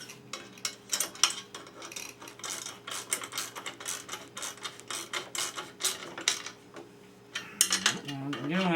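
Small metal clicks and ratcheting taps from hand-tightening screws on an aluminum steering assembly, a dense run of close, sharp ticks with brief pauses and a louder clatter near the end.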